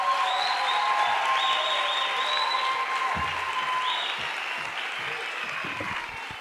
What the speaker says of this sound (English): A big round of applause to the Toto